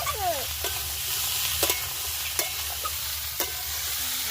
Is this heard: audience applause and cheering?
no